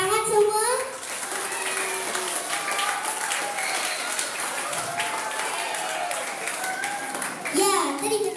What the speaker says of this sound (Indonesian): Kalau betul, tepuk tangan semua.